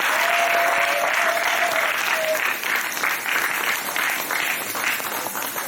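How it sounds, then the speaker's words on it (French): An audience at a church children's day celebration in France applauds loudly and steadily, a dense wash of clapping with some cheering that continues without a break. "Si c'est la joie, acclamons très fort pour eux."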